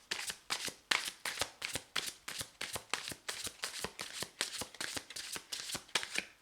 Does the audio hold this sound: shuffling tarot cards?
yes